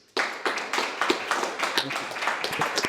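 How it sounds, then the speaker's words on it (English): A startup-talk audience applauds as presenters come on stage. The clapping starts abruptly and is fairly sparse and distinct, with individual claps audible in an uneven rhythm. "Let's give them a round of applause, please."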